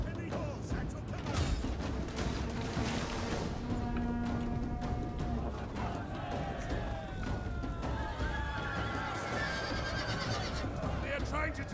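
Heavy cavalry horses neigh and whinny amid the clamor of a battle in the strategy game Crusader Kings 3, layered over a dense, continuous roar of fighting noise.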